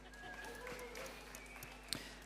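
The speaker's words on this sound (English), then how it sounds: "Round of applause for Verity," A conference audience gives faint, distant applause for a marketing speaker, a soft continuous patter beneath room hum and a few stray tones, with one sharp knock near the end.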